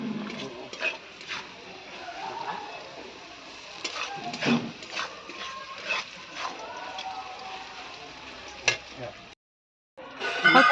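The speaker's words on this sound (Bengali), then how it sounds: "মাছটা ভাজা করে হ্যাঁ মাছ ভাজা, পুঁটি মাছ ভাজা" Small puti fish fry in a pan at home, a soft crackling sizzle under background noise and scattered knocks, fading out to a short gap before the frying noise returns.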